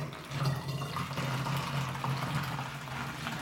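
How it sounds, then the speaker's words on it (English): Boiled and cooled water pours steadily into a jug of maple syrup wine, a continuous close splashing and gurgling stream lasting a few seconds with no talk. "This is water that I've boiled and let cool. So I'm going to put some of this in."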